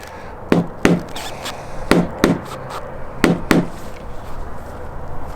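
A small crowbar taps a dented RV body panel in three pairs of sharp, close knocks with brief pauses between each pair, over a quiet background.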